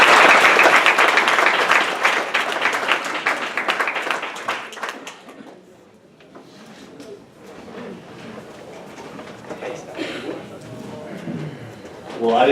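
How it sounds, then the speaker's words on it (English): An audience claps and applauds loudly for several seconds; the applause fades to scattered claps, then picks up again near the end. "Give them a round of applause"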